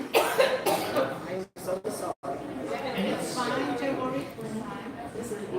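A person coughs during a live walking stream in St. Augustine after a wine tasting, the coughs coming in short bursts amid ongoing chatter and background voices.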